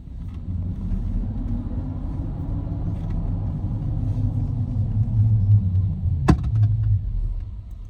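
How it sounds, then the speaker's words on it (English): A BYD Shark electric pickup slows to a stop on regenerative braking alone, with a low continuous road rumble and a gently falling whine inside the cab, broken by one sharp click near the end. "So that's gradually coming to a stop for regen."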